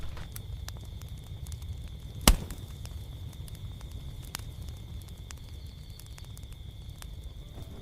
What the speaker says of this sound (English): The sharp snap of the fire and the softer crickets behind it